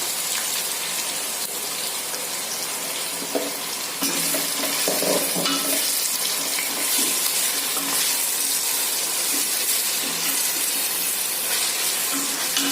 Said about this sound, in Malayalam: നമുക്കിനി ഉള്ളി ഇതിലോട്ടിട്ട് വഴറ്റിയെടുക്കാം. നന്നായിട്ടൊന്ന് മൂപ്പിച്ചെടുക്കണം ഉള്ളി